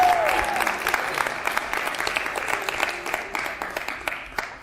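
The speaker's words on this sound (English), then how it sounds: "Keep clapping." Applause from a TEDx audience, a full round of many hands clapping that starts strong and gradually thins and fades, with individual claps standing out toward the end.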